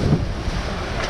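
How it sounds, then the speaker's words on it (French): Strong storm wind roars across a small Mini Transat sailboat at sea, a loud, steady rush of gusty buffeting against the microphone with sea noise underneath. "Et là le vent vient de passer de 2 à 30"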